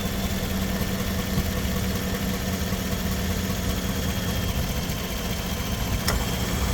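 A Chevrolet Suburban or Tahoe engine idles with the AC compressor running, giving a steady, even hum and low drone with no change in pace, recorded close with one faint tick.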